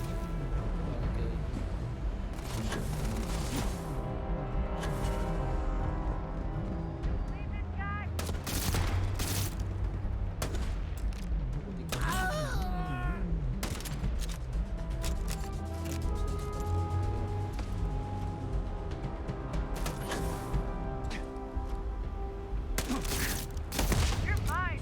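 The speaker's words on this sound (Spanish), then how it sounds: "¿Pero me está disparando aquí?" Repeated gunfire in Starfield, shots coming at the player in bursts across the whole stretch, mixed with game music and in-game voices.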